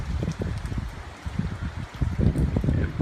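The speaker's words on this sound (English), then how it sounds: "It's slightly windy. A little bit of rain." Hurricane Matthew's gusty wind in Florida buffets the microphone in uneven low rumbling bursts, with a faint wet trickling hiss of light rain underneath.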